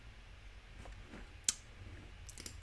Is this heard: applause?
no